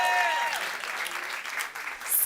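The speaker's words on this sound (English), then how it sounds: "Give them a huge round of applause" Audience at a climate week panel gives volunteers a round of applause: a brief, full wash of crowd clapping, steady and fairly loud, with a voice trailing off at the start.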